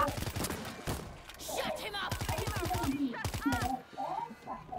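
Rapid bursts of gunfire from the zombie video game World War Z, fairly faint and mixed with game sounds, with players talking over the shots throughout.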